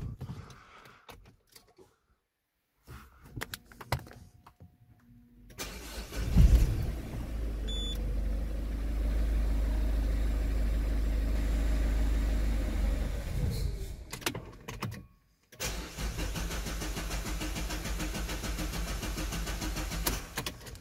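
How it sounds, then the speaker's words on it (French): A Citroën C4 Picasso 1.6 HDi diesel cranks and fires after a fuel filter change, settles into a steady idle rumble for several seconds, then stalls and falls quiet, with clicks and handling noises around it. "Si ça démarre, c'est que le filtre est bien amorcé."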